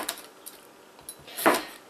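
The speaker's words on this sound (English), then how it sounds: "give our cucumber a good chop here" Knife slicing a cucumber into thick slices on a cutting board, a few light taps spaced out, then one louder, fuller cut near the end, close and fairly quiet.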